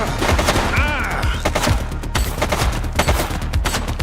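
Rapid bursts of gunfire from a police shootout in the video game The Precinct, loud and dense, with shots overlapping in quick volleys and a brief shouted voice partway through.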